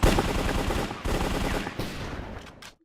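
Rapid automatic gunfire from a rifle in Minecraft's CS:GO Candycraft mod, a loud sustained burst of shots lasting nearly three seconds before cutting off.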